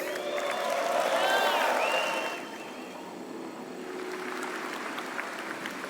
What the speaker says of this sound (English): Another round of applause for Andre